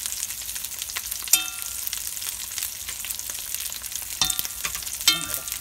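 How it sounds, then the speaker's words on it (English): Duck pieces fry in a pan with a constant crackling sizzle while they are turned and moved, sharp utensil clinks against the pan ringing out at intervals. "I'm going to turn them again and keep these moving in the pan"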